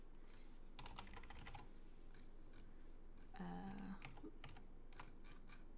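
Computer keyboard typing during a live coding session, quick irregular bursts of key clicks, with a couple of thicker clacks that fit keyboard shortcuts, close and faint, no one talking.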